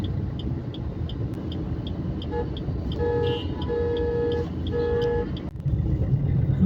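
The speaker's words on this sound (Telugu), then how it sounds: "ఈ టైంలో ఫుల్ ట్రాఫిక్ జామ్ ఉంది" Cars crawl through a full traffic jam in Madhapur, Hyderabad, with a steady close engine and road rumble underneath and several car horns honking in short and longer blasts midway through.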